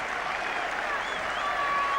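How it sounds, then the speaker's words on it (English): A cricket crowd at Old Trafford in 1981 applauds continuously, a dense, steady wash of clapping from a large stadium audience that holds level across the moment. "they're going to applaud him all the way in, a reception he so thoroughly deserves"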